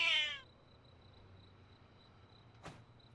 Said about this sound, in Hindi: ये एक जंगली बिल्ली है